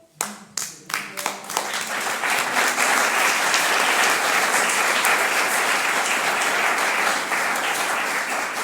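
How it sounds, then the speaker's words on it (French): A few scattered claps quickly swell into sustained applause from a crowd, steady and lively throughout. "Vous voyez, ils s'applaudissent un peu qui sont là."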